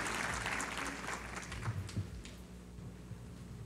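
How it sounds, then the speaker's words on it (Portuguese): A packed auditorium at a legal congress applauds, steady dense clapping from a large crowd that tapers off slightly, with a faint voice underneath. "Auditório lotado aplaude o ministro Agra Belmonte e o desembargador Carlos Alberto Bosco o cumprimenta."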